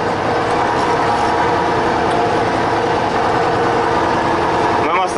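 A tractor, one of several KhTZ and MTZ-2022 machines finishing autumn ploughing, drives along a ravine beside a field, its engine a loud, steady near rumble with mechanical clatter and no pause.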